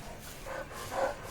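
A dog in the horror game set at Inunaki Tunnel gives two short mid-pitched barks or yips in quick succession, moderately close and fairly soft, over a low game ambience.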